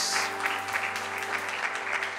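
A church congregation claps at a worship service, a dense steady stretch of applause with a held musical tone under it.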